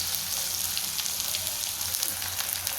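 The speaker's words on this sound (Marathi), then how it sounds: "आणि इकडे पाणी उकळतच आहे, म्हणजे गरम होते." Water heating in a pot on a home stove while breakfast is cooked, a steady close bubbling hiss running evenly without a break.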